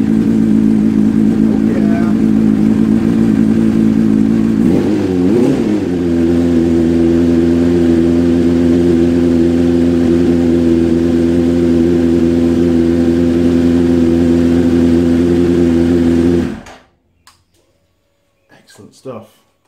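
A 1999 Suzuki GSX-R750 motorcycle engine runs at a steady, loud idle with a brief rev near the start. It cuts off abruptly, leaving near silence with faint handling noises at the end.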